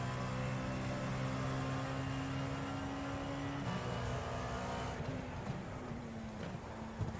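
LMP2 prototype race car engine at Le Mans in a racing video game, a steady loud harmonic drone that shifts pitch midway and wavers through later gear changes, with no talk.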